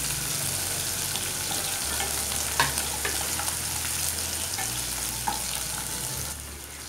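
Onions fry in a pan for an aloo kurma with a constant soft sizzle, plus a few light stirring clicks and a low background hum, no voices.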